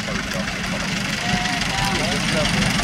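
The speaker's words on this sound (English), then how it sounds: "They're all going to their tractors." Several tractor engines idle together in a steady, continuous rumble at a countryside tractor run, as the drivers head to their machines before setting off, with people talking over the noise.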